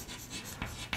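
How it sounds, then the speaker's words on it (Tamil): A pen or pencil drawing a straight parallel line through a point for a geometry construction, a soft scratchy stroke with a couple of sharper taps at the end, close and quiet. "சி வழியாக ஒரு பேரலல் லைன் வரைகிறேன்"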